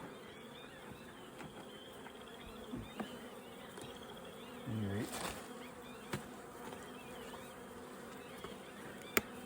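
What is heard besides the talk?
honeybees buzzing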